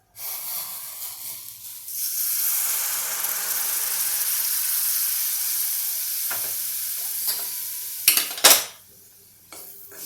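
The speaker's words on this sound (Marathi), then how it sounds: "पाणी गरम झालेलं आहे हे पाणी मी यात आता ओतून देते" Hot water is poured into a pan of sizzling shev bhaji curry, giving a loud, sustained hiss that settles into steady bubbling. A few sharp clanks of utensils against the pot follow near the end.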